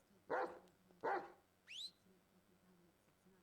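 Two short dog barks in close succession, fairly near and moderately loud against a quiet background, followed by a brief rising squeak-like yelp.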